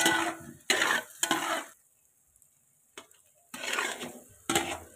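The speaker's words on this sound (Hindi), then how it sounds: "जिस तरह हम इसमें पहले चम्मच चला रहे थे उसी तरह हम इसमें चम्मच चलाते रहेंगे" A spoon stirs Makhandi halwa with milk and sugar in a pan, making close scraping, swishing strokes in several bursts separated by a quiet pause.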